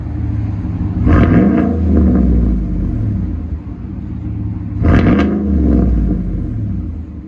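A deep, rumbling 6.2L V8 exhaust on a 2018 GMC Sierra Denali with a CARVEN R-Series resonator and 5-inch tip revs twice in strong bursts, settling to a throaty idle between, loud and close.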